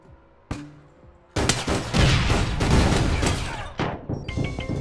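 Gunfire in the online shooter APB Reloaded, a sharp single shot followed by a dense, loud burst of rapid automatic fire and crashing impacts lasting several seconds.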